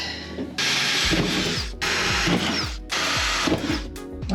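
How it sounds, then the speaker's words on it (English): A power drill bores a hole through the metal chassis of a Foxbody Mustang in three loud bursts, each one a grinding, chattering run with short pauses between them. "So let's find the drill bit and let's start drilling."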